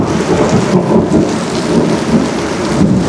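A heavy afternoon rainstorm with thunder, a loud, dense hiss of rain pouring down while deep rumbling thunder rolls through underneath, continuous and close, with no talking.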